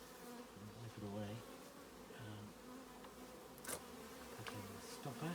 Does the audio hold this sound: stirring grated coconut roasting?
no